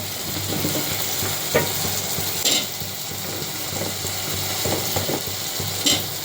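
Sweet potato pieces sauté with softened tomato in a pan for a Tamil kara kuzhambu, giving a steady close sizzle broken by occasional stirring scrapes.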